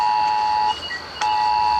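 A phone alert tone sounds as a steady electronic beep, breaks off briefly, then resumes loud and close, with no talking.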